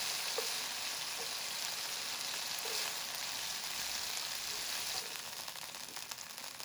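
Chicken pieces frying in a pan for jambalaya give a steady, close, even sizzle that continues without pause, with a few faint clicks and no voices.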